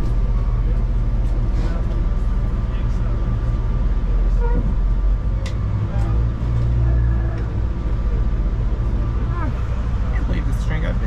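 Inside a UP Express passenger train in motion, a steady low rumble and drone fill the cabin, with faint background voices and occasional brief rattles.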